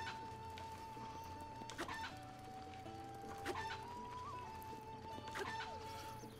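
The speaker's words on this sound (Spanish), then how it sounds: "estos animalitos que veis aquí, que se parecen gallinas, aunque en el juego parece ser que los llaman cucos" Cuccos, chicken-like animals in Zelda: Breath of the Wild, give a few short clucking bursts over steady game music and ambience.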